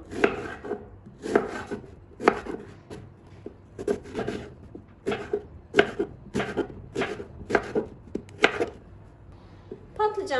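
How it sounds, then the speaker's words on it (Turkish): Peeled eggplants being cut with a knife on a board, a regular series of close, crisp chops in small clusters roughly every second, with a brief scrape at the end and no talking. "Soyduğum patlıcanları ortadan ikiye kesiyorum."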